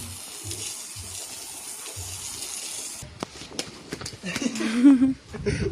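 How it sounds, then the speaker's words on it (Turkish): Water running while a carpet is washed outdoors, a steady gush at first, then uneven splashing and spraying with sharp knocks, close and fairly loud. "Su."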